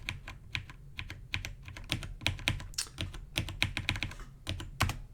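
Rapid keystrokes rattle on a computer keyboard as a command is typed, a steady irregular patter of close, crisp clicks with short bursts and brief pauses, heard alone without talk.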